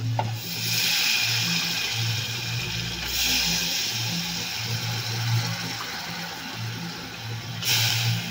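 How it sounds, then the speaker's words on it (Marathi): Dal being stirred with spice masala in a pan, a continuous scraping and sizzling stir with slow repeated strokes, close and steady, no talk. "आता इथे आपण डाळ घातली आहे, हे आपण चांगले मिक्स करून घेऊया"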